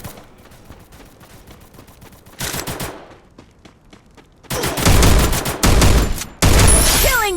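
Bursts of gunfire from a shooting video game, including rapid automatic fusillades and single shots, quieter at first and then loud, dense volleys near the end.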